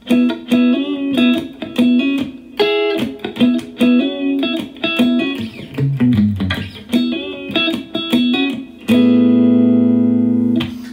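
A clean electric guitar plays a rhythmic funk lick with choppy, percussive notes, a short low-string slide, then a ringing sustained chord at the end.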